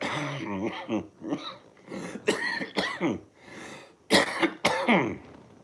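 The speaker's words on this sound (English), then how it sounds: "A lot of my cough is to do with dust and varnish" A person coughs and clears their throat several times in short bursts, with pauses between, close to the listener.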